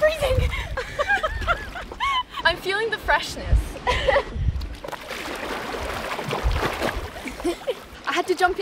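Swimming in a clear, cold rock pool in a Saudi Arabian wadi, close irregular splashes and water sloshing mixed with voices, chuckling and laughter.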